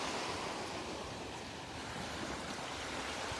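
Ocean surf washing onto a Gulf beach at Delnor-Wiggins Pass State Park as the tide comes in, a steady broad wash of waves with some wind noise, continuous and fairly soft, no voices.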